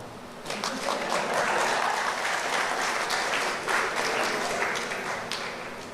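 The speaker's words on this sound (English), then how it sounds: "A pause for a clap." An audience at an arts council launch event in San Fernando breaks into steady clapping, a full, close wash of many hands that swells quickly and holds for several seconds before easing off slightly.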